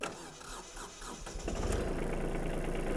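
A Kubota B1700 compact tractor engine cranks briefly, then catches and settles into a loud, steady running rumble close by, with no talking.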